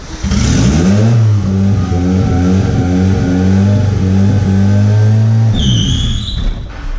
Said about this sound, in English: now bring the clutch out slowly while you rev it